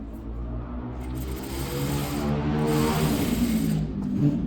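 A sewing machine stitches the lining of a velvet blouse with a rapid, even mechanical whir close to the listener. The whir runs steadily for a few seconds and grows slightly louder as it goes.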